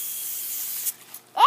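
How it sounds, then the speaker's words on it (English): Disinfecting spray hisses from a can in a steady, close burst, then stops; a short vocal exclamation follows right after. "I must spray you."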